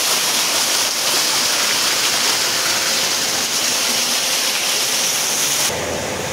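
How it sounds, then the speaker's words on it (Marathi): A small artificial waterfall and stream in the Rani Baug zoo garden in Byculla, Mumbai, rushes with a loud, constant splashing roar, close by and unbroken, fading slightly near the end. "झरा कसं वाहतोय पाण्याचा."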